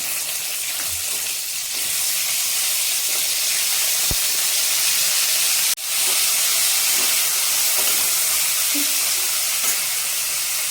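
Beans fry in hot oil for a vegetarian navratan korma, giving a steady, bright sizzling hiss that runs evenly throughout, close and fairly loud, with no talking.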